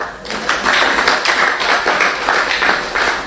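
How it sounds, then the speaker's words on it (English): Crowd at a book launch gives a round of applause for a woman, brisk continuous clapping, close and loud throughout. "A round of applause for her, please"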